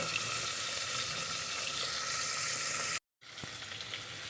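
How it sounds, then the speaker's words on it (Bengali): Fish frying in a pan, giving a dense steady sizzle that cuts out abruptly near the end and then resumes, no voices. "মাছটা ভাজা হোক"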